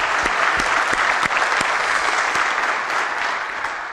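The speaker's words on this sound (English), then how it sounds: "let's give a round of applause for everybody that makes BSides possible" Audience applause at the BSides Columbus 2018 security conference keynote, a steady dense wash of many hands clapping throughout, a few sharp close claps standing out, easing slightly toward the end.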